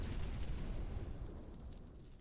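A low, rumbling blast from a sensor bomb in the game Noel The Mortal Fate, a loud, dense roar that slowly fades over a couple of seconds, with no talking.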